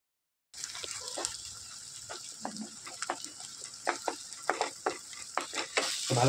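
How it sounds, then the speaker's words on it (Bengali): Eggs cracked into a pan are stirred as they fry for a dhaba-style egg tadka. A gentle sizzle runs under repeated short scraping strokes that grow slightly louder toward the end, with no speech. "তো ভালো করে ডিমগুলোকে নাড়িয়ে চিড়িয়ে নিলাম।"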